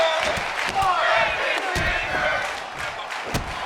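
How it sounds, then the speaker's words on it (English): A wrestling crowd yells and roars at a live influencer wrestling event, a dense continuous clamor of shouting voices with occasional thuds and slams cutting through. "The crowd yelling for Phantom to break his finger."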